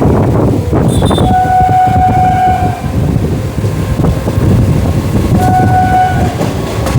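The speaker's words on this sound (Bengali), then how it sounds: "আমঘাটা লোকাল, অসাধারণ সুন্দর একটা কার্ভ পার করছে।" The Amghata local train rolls loud and close through a curve, its wheels rumbling steadily on the rails while two long horn blasts sound, one early and one near the end.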